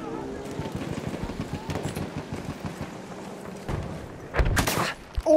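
Sniper gunfire in a video game sounds as a rapid, crackling run of shots, followed by louder, sharper bangs near the end, amid game noise and voices.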